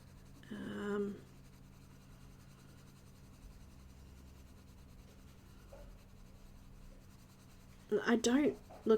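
A cream colouring pencil rubs over paper while shading clouds in a greyscale fairy picture: soft, scratchy strokes in a short burst near the start and again at the end, with quiet room tone between.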